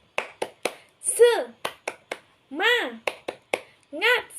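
In an elementary classroom, children perform the 'tepuk semangat' rhythmic clap, crisp claps in a patterned beat alternating with short chanted vocal bursts from the group, close and clear.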